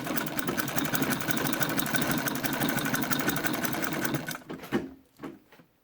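A domestic treadle sewing machine stitches a fabric face mask, running in a steady, rapid mechanical clatter for about four seconds before slowing to a few last separate stitches and stopping.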